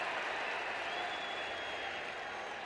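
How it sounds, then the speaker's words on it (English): A baseball stadium crowd in Toronto applauds steadily as former Blue Jays player Frank Catalanotto is introduced, a dense, even wash of clapping that stays at a constant level throughout. "gave him a nice round of applause when he was introduced"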